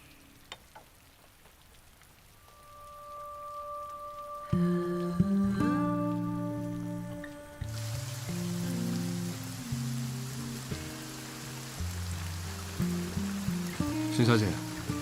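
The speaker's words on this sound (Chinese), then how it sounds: "外面下雨了" Rain falls outside, a soft steady hiss that rises partway through and continues beneath a melodic music score.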